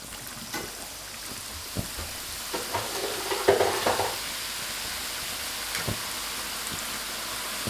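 Cut dough noodle strips frying in hot oil for sachima, a steady crackling sizzle with bursts of bubbling and occasional utensil taps, no talking.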